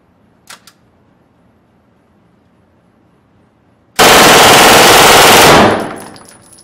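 An M11 submachine gun fires 9mm, 115-grain reloaded ammunition of unknown powder in one loud, continuous burst of about a second and a half, then echoes away, after two faint clicks at the start.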